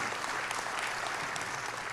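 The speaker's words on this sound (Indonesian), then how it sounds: "Tepuk tangan buat Tuhan yang luar biasa." A church congregation breaks into loud, dense applause, continuous clapping from a large crowd sustained evenly throughout the short stretch.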